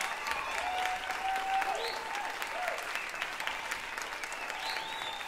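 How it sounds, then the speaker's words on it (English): Audience applause and light cheering welcoming a singer onto a concert stage, a sustained wash of clapping from a crowd at moderate distance with a few whistles rising over it. "I want you to give a warm welcome to Mr. Grady Harrell."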